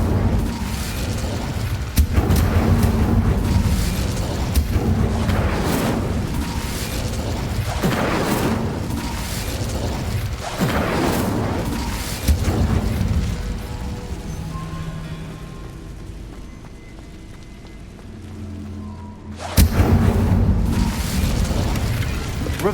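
Fiery spell bursts in Hogwarts Legacy, a sequence of loud booming whooshes and crackling flame blasts in rapid succession, a quieter stretch, then another strong burst near the end.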